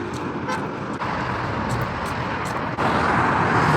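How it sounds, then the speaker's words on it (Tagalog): Fast road traffic roars steadily past near a bridge in Salmia, a dense continuous rush of engines and tyres with a faint horn toot, loud and close, with no voices over it. "Ang lakas tumakbo ng mga sasakyan."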